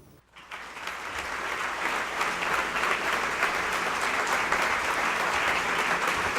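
Applause from the audience at a healthcare awards ceremony for a lifetime achievement honoree: after a brief quiet moment, crowd clapping rises quickly and holds as a steady, dense ovation.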